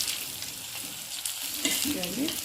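Sambar bondas fry in hot oil and are turned over, a steady bright sizzle with a few soft splashes and a faint voice-like murmur near the end.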